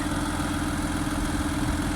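Deutz K610 tractor engine idling: a steady, low diesel chug with an even throb, close and continuous, with no voices.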